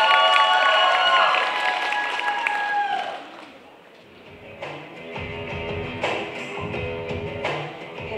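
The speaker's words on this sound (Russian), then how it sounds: "Аплодисменты." Applause from the crowd at a League of Legends cosplay show, with music playing at first, then scattered claps and taps under an announcer's voice.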